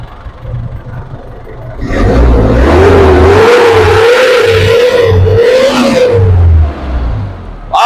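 A Mazda Bongo WL with a 2.5-litre electronically injected diesel engine is revved hard, its exhaust roaring in one sustained loud surge after a quieter idle, then dropping back.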